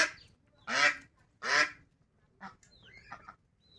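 Ducks released at a riverbank quack: two loud, close, raspy quacks in a row, followed by a few fainter, shorter calls and quiet gaps.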